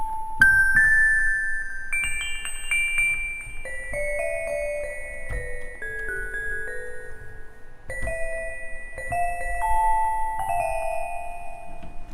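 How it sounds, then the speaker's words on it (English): A soft synth melody of bright, bell-like tones rings out note by note, each struck and sustained with a gentle chime and decaying tail. "we're going to start with Delicate Bells. This is what this one sounds like"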